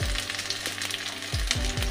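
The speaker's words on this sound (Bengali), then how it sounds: "এই তেলের মধ্যেই আমি একটু কালো জিরে দিয়ে নেব।" Nigella seeds dropped into hot oil left from frying pabda fish give a strong, continuous close sizzle, with a few low thuds and pan knocks toward the end.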